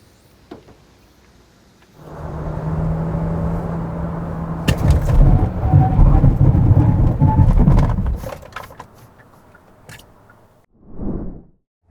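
2021 Kia Sorento Hybrid on 235/55 R19 tires braking hard to a stop on a wet road: a rising roar of tires and water spray builds to a loud rumble, then drops away, followed by a short final burst.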